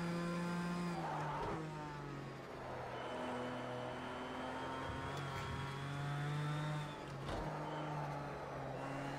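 Race car engines in Project CARS 2 rev steadily throughout, loud and close, with dips and rises as the car shifts and takes corners, accompanied by engine noise from other cars nearby.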